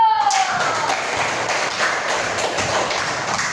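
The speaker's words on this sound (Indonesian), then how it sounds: "Iya, tepuk tangan dulu." A class of primary school pupils claps together in a classroom. After a brief whistle-like tone, the scattered, fairly close claps continue steadily for a few seconds.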